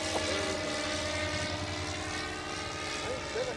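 RC model Cessna 337 airplane flying overhead, its propeller engine giving a steady, moderately loud buzzing drone throughout.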